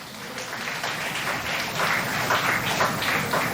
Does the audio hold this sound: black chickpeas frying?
no